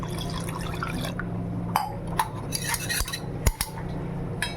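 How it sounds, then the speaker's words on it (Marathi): Water poured into whisked yogurt for Maharashtrian kadhi, a steady trickling splash in a bowl with a few clinks of a utensil against the dish. "याच्यामध्ये पाणी टाकूया"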